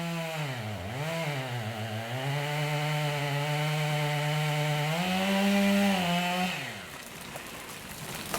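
Chainsaw cuts through a standing tree trunk with a loud, close, sustained engine whine that dips as the bar bites and rises again, running for several seconds before cutting off abruptly.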